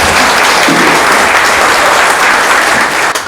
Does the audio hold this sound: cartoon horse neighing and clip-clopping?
no